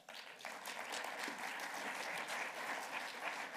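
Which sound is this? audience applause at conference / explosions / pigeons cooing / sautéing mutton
audience applause at conference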